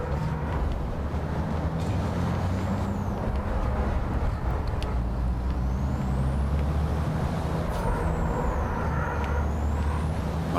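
Racing trucks in an FIA European Truck Racing Championship video game on Xbox One roar continuously with dense engine drone, and brief hissing air brake bursts rise above the noise.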